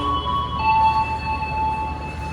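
Riding inside a Pramex local economy-class train toward Kutoarjo: a steady low rumble of the carriage with high sustained whining tones from wheels or motors, fairly close and without talk.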